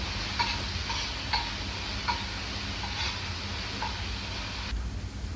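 Chopped tomato sautés in oil in a pan, a steady low sizzle with soft periodic scrapes of stirring every second or so, close and fairly quiet throughout.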